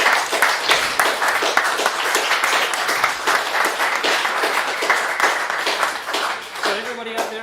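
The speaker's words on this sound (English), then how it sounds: "one more round of applause for these great people" Studio audience applauding candidates at a live minor-party debate, with brisk, distinct claps forming a steady wash; a voice begins speaking over it near the end.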